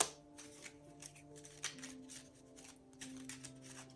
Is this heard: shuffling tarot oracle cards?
yes